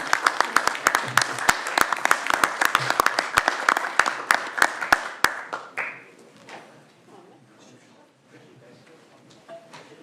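Audience applause at a council meeting, a burst of many hands clapping for about five seconds, then thinning into a few scattered claps and room noise as people move about.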